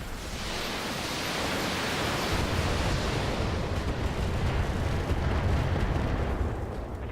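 Mech weapons fire in the BattleTech video game, including long-range missiles, as a loud sustained roaring rumble of launches and blasts that swells and holds for several seconds.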